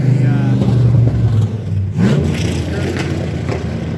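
A truck with no hood rumbles and revs close by, a steady low engine drone that swells and dips as it passes, heard from atop a WWII tank with a voice speaking over it.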